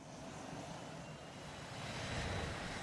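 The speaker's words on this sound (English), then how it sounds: "the plane is dropping like a brick, screaming towards the ground" An F/A-18 Hornet jet in falling leaf mode gives off a steady, broad roar of engine and rushing air that builds slightly toward the end, with no talk over it.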